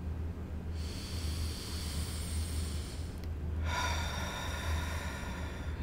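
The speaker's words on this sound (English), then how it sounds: "Breathe in." A person takes two slow, deep breaths in, each one a long airy hiss heard up close, with a steady low hum underneath.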